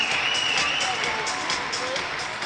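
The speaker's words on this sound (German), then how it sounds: "Schenkt ihr nochmal einen Applaus." Audience applause at a show jumping event in Leipzig, steady dense clapping from a crowd, fairly loud and continuous, with faint tonal sounds over the top.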